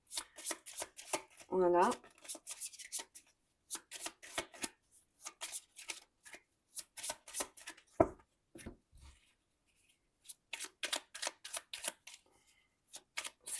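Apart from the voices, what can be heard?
shuffling tarot cards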